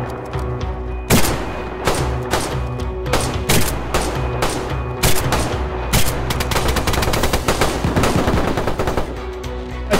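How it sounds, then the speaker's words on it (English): Dense bursts of gunfire from players in the DayZ video game, loud and close, with sharp repeated shots and automatic volleys running throughout without talk. "You guys shoot."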